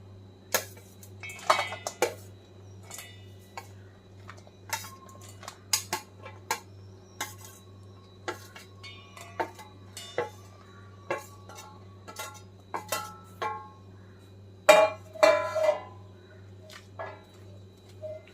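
Dried raw mango pieces for pickle being taken out into a bowl, a series of light clinks and taps of pieces and a utensil against the dish over a steady low hum, with faint voices.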